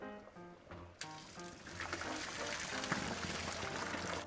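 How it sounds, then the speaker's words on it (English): Cooked pasta and its water pour into a strainer in a kitchen, a close, steady splashing rush building after a faint voice and a sharp clatter at the start. "I'm just gonna get my strainer here, my handy dandy strainer, and strain my pasta."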